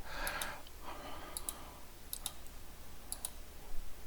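Several sharp computer mouse clicks in short pairs and singles, spaced a second or so apart, close and crisp over a quiet room hiss while a Windows PC is being optimized.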